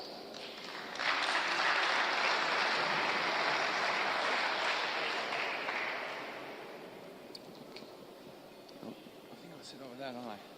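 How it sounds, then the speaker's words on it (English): Audience applause for conference panelists at a G7 and ICT industry multistakeholder conference, a sustained broad wash of clapping that starts after a second, holds steady, then thins and fades toward the end. "please can we have a round of applause for our panelists"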